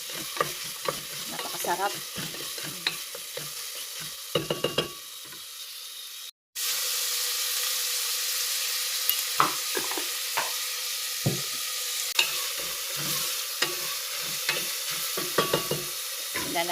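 Pork with fat cooks in a pot of squash and mung bean stew, giving a steady close sizzle and bubbling with intermittent stirring scrapes and taps, broken by one brief silent gap; a voice speaks a word in Tagalog.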